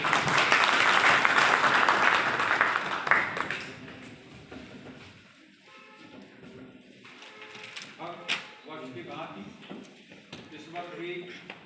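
Audience claps at an agricultural event at a Krishi Vigyan Kendra, loud and dense for about three seconds before thinning into scattered claps, shuffling and indistinct talk.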